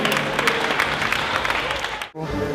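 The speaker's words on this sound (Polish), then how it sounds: "Wielkie brawa!" Audience applause at a Viennese ball in Szczawno Zdrój, many hands clapping loudly and steadily before cutting off abruptly near the end, with a murmur of crowd beneath.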